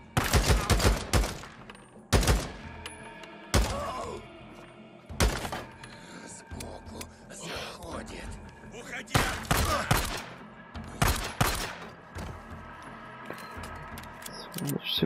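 Video game gunfire, a series of sharp loud shots in bursts, some rapid clusters and some single reports, separated by quieter gaps with faint movement noise.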